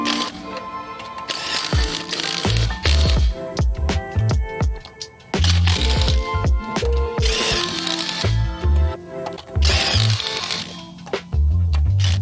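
Lug nuts on a Chevrolet Silverado truck wheel being run down with a power impact tool: repeated loud ratcheting bursts in short rhythmic runs with brief pauses between nuts, close to the mic, with some mechanical clatter.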